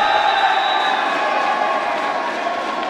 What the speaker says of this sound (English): Crowd riled up for this serve from Algonquin.